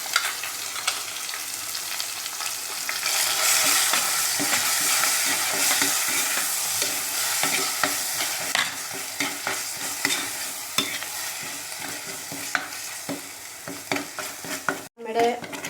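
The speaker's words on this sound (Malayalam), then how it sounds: "നമ്മുടെ മസാല ഇവിടെ നന്നായി വഴണ്ടിട്ടുണ്ട്." A spoon scrapes and stirs masala frying in a pan for Kerala sardine chilli curry, a steady close sizzle with rhythmic scraping strokes throughout, ending with a brief clatter.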